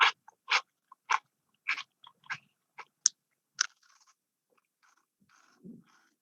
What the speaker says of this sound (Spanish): El sonido que los humanos y animales hacen al masticar proporciona información acerca de si les gusta el sabor